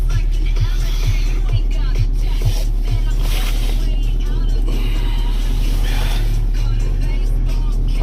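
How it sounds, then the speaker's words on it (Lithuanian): A car engine cranks and catches in -16.5°C frost, then idles with a steady low rumble and regular low pulses throughout, fairly loud and close, while a person talks over it. "Žiūrėsim, kaip užsivina mašiniukas"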